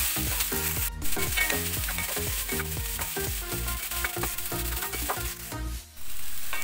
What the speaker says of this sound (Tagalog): ilalagay naman natin yung ating squid ball. Pagkasamahin na po natin yung ating mga sangkap.